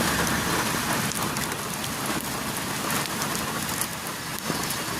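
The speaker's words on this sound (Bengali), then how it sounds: "আহা কি বৃষ্টি, আহা কি বৃষ্টি, বৃষ্টি জুড়েছে মন জুড়ে।" Heavy rain pours down steadily, a dense, unbroken hiss of drops on surfaces that fills the whole stretch at an even, loud level with no voices.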